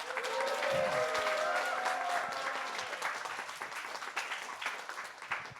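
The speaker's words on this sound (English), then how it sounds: "Please give a big round of applause for Neuropraxia." Audience applause at a film project final pitch event, a full, sustained clapping crowd that gradually thins over several seconds.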